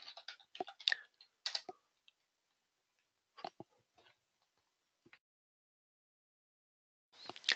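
Fingers tap on a computer keyboard in short, quick bursts of close, crisp keystrokes separated by quiet pauses, with a final flurry at the end.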